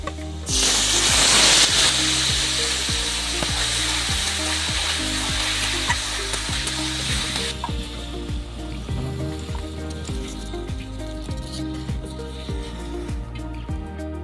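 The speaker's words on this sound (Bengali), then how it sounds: "এবার আমরা এর ভিতরে পেঁয়াজ কুচি দিয়ে দেবো ভাজার জন্য" Chopped onions fry in hot mustard oil in a wok, a loud, close, steady crackling sizzle with repeated scrapes and clinks of a stirring spoon throughout.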